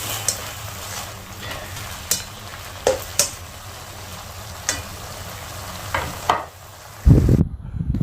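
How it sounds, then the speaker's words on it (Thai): Crispy kale and minced pork stir-fried in a pan, a steady close sizzle with scattered scraping stir strokes and clinks, ending in a louder burst of frying. "ผัดจนสุกนะครับ"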